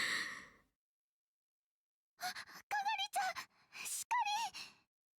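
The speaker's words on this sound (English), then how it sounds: "was still lying on the sofa, panting for breath." A woman in the video game Steins;Gate 0 pants for breath: a breathy exhale, a pause, then a run of short, ragged voiced gasps and sighs, close and alone.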